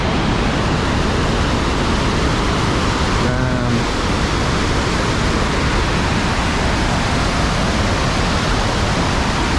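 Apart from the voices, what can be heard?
waterfall rushing water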